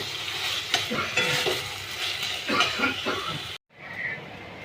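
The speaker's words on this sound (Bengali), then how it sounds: "ভালো করে নাড়িয়ে এটাকে এবার আমি নামিয়ে দেবো।" Taro leaves cooked with chickpeas in oil sizzle steadily in a pan while being stirred, with scraping and clacking strokes of the spoon up close, broken by a brief silence before the frying resumes.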